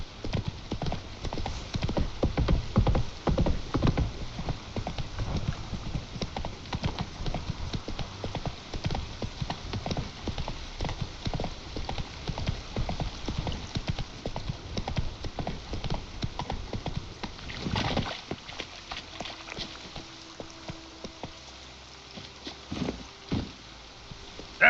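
Horse hooves gallop in The Witcher 3 video game, a fast, steady clip-clop that runs for most of the stretch, then slows and thins out near the end.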